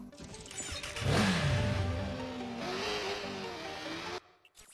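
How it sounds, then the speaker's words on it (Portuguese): A motorcycle engine in the video game Watch Dogs revs up and roars steadily for a few seconds, loud and close, then cuts off abruptly. "nós vamos de moto."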